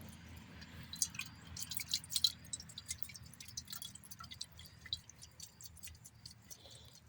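Water drips from the blocked fuel line of a Poulan Pro push mower in quick, irregular small ticks. The drips are faint and sit over a low background hum, with no talk.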